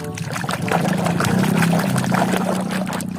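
Water pouring steadily while plastic toy animals are washed, a loud continuous splashing stream that runs for a few seconds, close by.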